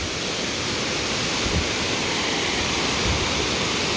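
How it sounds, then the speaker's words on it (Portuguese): A small waterfall in Manyueyuan National Forest, Taiwan, gives a steady, dense rush of falling water, loud and close, unbroken throughout with no voices. "Bom, aqui é a cachoeira."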